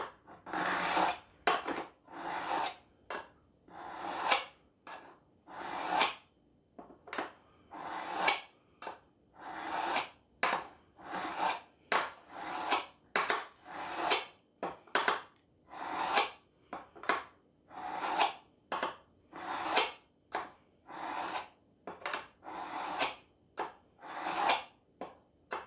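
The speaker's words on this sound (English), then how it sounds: "I just want to see if I can sharpen, see if it will sharpen." Repeated short scraping strokes of a knife drawn through an AnySharp knife sharpener, a brisk, uneven series of rasping pulls, close and clear, with no talking.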